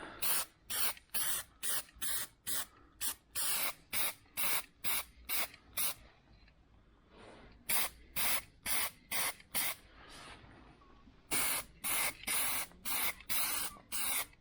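Spray-can primer hisses onto the panels of a Ford Fusion in short, regular bursts, close and loud, with brief gaps between passes and a longer pause partway through.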